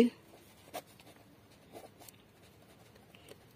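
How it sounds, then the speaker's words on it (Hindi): Pen or pencil writing numbers by hand on paper, faint scratchy strokes in short bursts, close and quiet with a steady low background hiss. "सिक्कों की संख्या ऊपर लिखते हैं और नीचे लिखते हैं मूल्य"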